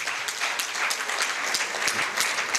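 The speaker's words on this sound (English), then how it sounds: "Please clap for her." Scattered applause from a modest crowd at an ear, nose and throat nurses' anniversary scientific session, steady clapping throughout at moderate volume.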